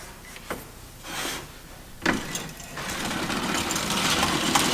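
A rod binder machine wraps glued bamboo rod strips with a belt, giving a whirring motor drone broken by short swells and clunks and building steadily louder near the end, heard close with no talking.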